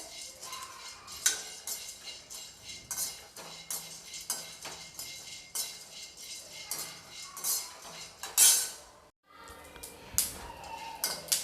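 Pumpkin seeds dry roast in a pan over a low to medium flame, stirred with a utensil that scrapes and clinks steadily and rhythmically against the metal, close and fairly loud, with a brief pause near the end.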